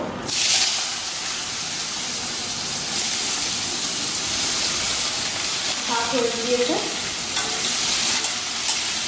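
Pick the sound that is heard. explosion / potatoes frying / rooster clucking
potatoes frying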